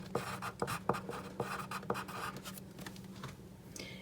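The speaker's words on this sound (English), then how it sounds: "So I'm going to write down speaking" Pen scratching across a paper bookmark in quick short strokes, close and quiet, with a steady low hum behind.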